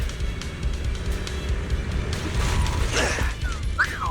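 An elevator mechanism in a video game grinds and creaks as it moves, with a steady mechanical rumble, ratcheting clicks and a sharp metallic squeal near the end.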